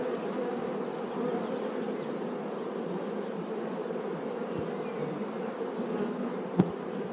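Honey bees hum around an open hive of younger and older workers, a dense, steady buzz that holds at moderate volume throughout, with one brief click near the end and no voices.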